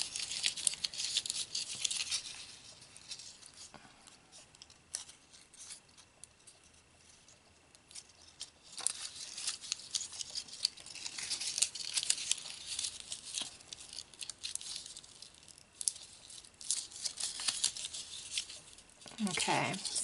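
Scissors snip through a paper snowflake-border heart rosette in irregular bursts of sharp cutting and crinkling, close and fairly quiet, with a voice talking softly in between.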